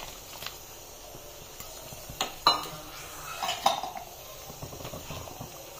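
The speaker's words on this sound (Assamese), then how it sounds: "এই কাজু কিচমিচ দি দিলোঁ" Soaked cashews and raisins are tipped into a cooking pot, bringing a few sharp metallic clinks and scrapes of a spoon against the pot over a quiet background.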